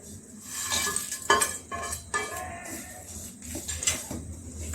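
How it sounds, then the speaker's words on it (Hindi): Spoon stirring roasted coriander panjiri mixed with dry fruits in a pan off the heat, giving repeated scraping and rustling strokes with occasional clinks against the metal, close and steady. "गैस को ऑफ कर देते हैं और इसी में बराबर चलाते रहते हैं ताकि ये जले नहीं"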